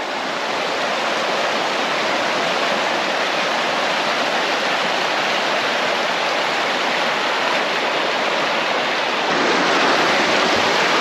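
Water of the Yarra River rushes steadily along the riverbank, a dense and continuous broadband roar that stays close and loud the whole time with no voices.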